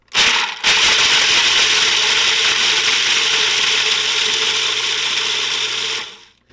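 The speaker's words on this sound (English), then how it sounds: "so first we're just going to grind these up." A food processor or blender grinds ingredients for vegan gluten-free wedding cake cookies, a loud steady whirring roar that runs for about six seconds after a brief start and stop, then cuts off.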